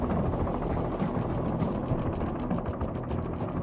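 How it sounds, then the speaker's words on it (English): Helicopter rotor blades beat steadily as the tips cut the air at supersonic speed, a loud, continuous, pulsing drone close by with no talk over it. "The telltale beating sound is actually a series of mini sonic booms created by the rotor"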